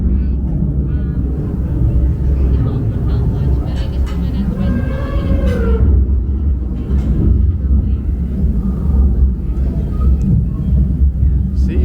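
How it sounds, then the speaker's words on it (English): Simulated thunder rumbles low and continuously through a Rainforest Cafe dining room, a loud steady roar with people talking over it. "Oh, the thunder."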